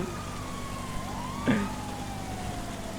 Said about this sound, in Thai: เอาอ่ะรถตำรวจรถตำรวจไล่กัน